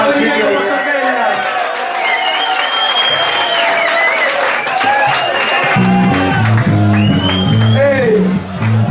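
An audience at a concert in Sala Inagua, Palamós, gives loud sustained applause with whoops and shouts, and a thumping bass beat kicks in near the end.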